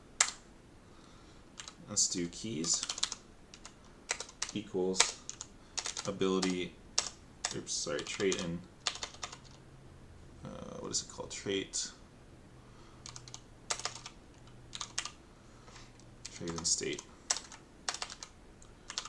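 Rapid clicky typing on a computer keyboard comes in bursts throughout, with a person talking between and over the keystrokes.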